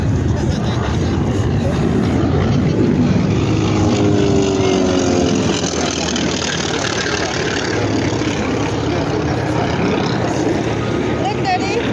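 A T-28 propeller aircraft engine roars loudly and continuously at an airshow in Salinas, California, its pitch shifting as it passes, with a crowd murmuring underneath.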